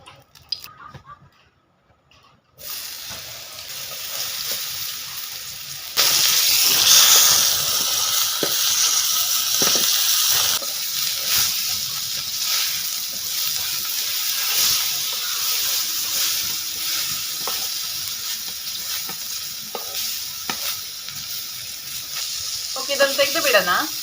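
Fish slices fry on a flat tawa in a little coconut oil, giving a loud, continuous hissing sizzle that surges stronger partway through, with scattered clinks and scraping.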